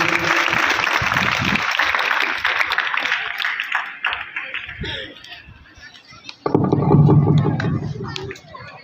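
Audience at a Republic Day school function in India applauds for an honoree, with dense clapping for several seconds that fades into quieter noise before a voice speaks over a loudspeaker.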